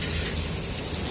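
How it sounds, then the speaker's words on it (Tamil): Onions sauté in oil with cumin in a kadai, a steady dense sizzle close up that fills the whole moment without a break and with no voices. "ஒரு கடாயில் கொஞ்சம் எண்ணெய் ஊற்றி ஜீரகம் மட்டும் போட்டு தாளிச்சிட்டு அதுக்கப்புறம் வெங்காயம் நறுக்கி வச்சுருக்க வெங்காயத்தை போட்டு நல்லா வதக்கிட்டு"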